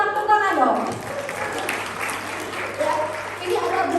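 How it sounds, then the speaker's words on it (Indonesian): An audience at a talk breaks into applause right after a voice, a steady patter of clapping that swells and dips over a few seconds before her speech resumes. "Tepuk tangan dong"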